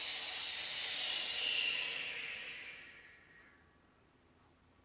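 A group of children in a yoga class exhales deeply together, a long breathy hiss that swells and then fades away over several seconds into near quiet.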